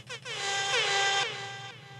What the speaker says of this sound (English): Should we give him an air horn?